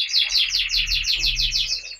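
Caged birds chirp in quick repeated bursts, a close, bright and rhythmic series of tweets running throughout with no talking.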